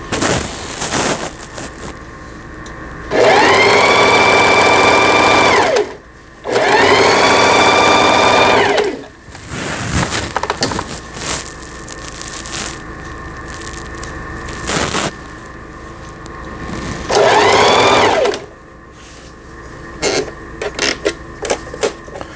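A Singer 4423 sewing machine runs under repair in a workshop in three loud bursts of fast rhythmic stitching, separated by quieter clicks and handling noises.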